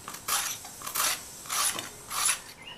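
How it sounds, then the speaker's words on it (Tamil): A peeler scrapes the ridged skin off a ridge gourd in four rhythmic rasping strokes, each about half a second long, close and clear with no talking. "இதனுடைய மேல் தோலை லைட்டாக அந்த மாதிரி சீவிக்கணும்"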